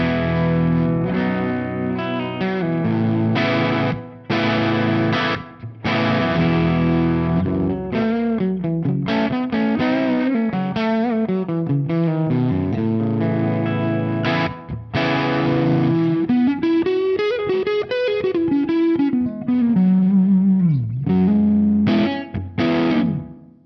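A heavily overdriven electric guitar played loud and continuously through a Laney LA30BL amp, gain on 4, boost pedal off, with chugging riffs, sustained chords and bending lead lines.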